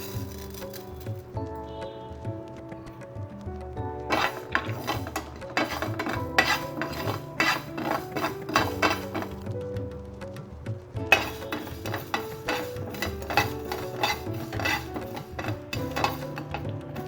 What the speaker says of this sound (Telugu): మీద ప్యాన్ పెట్టి ఆవాలని డ్రై రోస్ట్ చేసుకోవాలి.